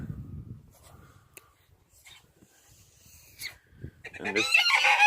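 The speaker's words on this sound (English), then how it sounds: "There's Gary the guard goose." Gary the guard goose honks loudly and harshly toward the end, after quieter farmyard stretches with faint calls and scattered noises on a cold, snowy November farm.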